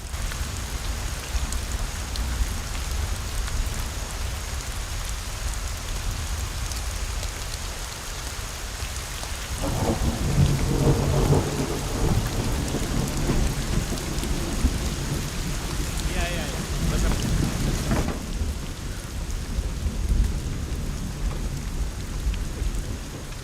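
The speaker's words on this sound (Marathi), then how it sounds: "पाऊस पडतोय यात." Steady, heavy rain pours throughout, with a deep rumble of thunder swelling in the middle before the downpour carries on alone.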